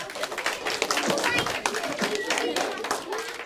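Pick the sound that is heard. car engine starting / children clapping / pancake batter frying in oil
children clapping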